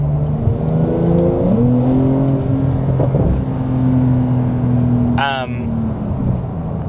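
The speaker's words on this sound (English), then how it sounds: "But just hearing the induction noises, feeling the bumps and it throwing you around those corners" Porsche 911 Turbo S engine induction note while driving, a steady droning hum that rises and falls gently with throttle, heard from inside the car with a brief high whine near the end.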